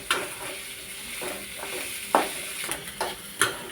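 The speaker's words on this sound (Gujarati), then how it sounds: "આમાં હલાવશું એટલે પાકી જશે। તેલમાં ચડવા દેશે।" Kanda poha frying in oil in a pan, with a steady soft sizzle under scraping stirring strokes and a few sharper clinks of the spoon against the pan, close by and with no talk.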